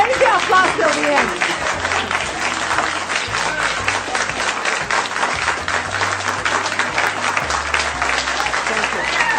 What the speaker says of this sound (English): applause till the end.